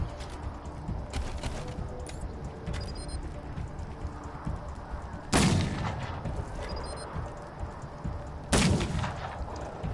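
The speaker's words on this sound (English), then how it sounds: "She put three shots right between that dude's face." Gunshots in the Wasteland 3 game come as two loud, sharp blasts several seconds apart, each with a ringing tail, over quiet background game sounds and no talk.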